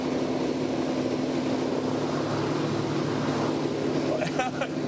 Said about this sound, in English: That is purring. Those engines, amazing that they are in such good shape.